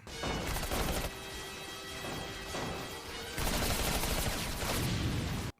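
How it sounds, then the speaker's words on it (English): An explosion erupts on a landing strip in the Robotech Macross anime, loud crashing blasts and rapid gunfire-like bursts in two heavy waves that end abruptly. "Oh, somebody blew up on the landing strip."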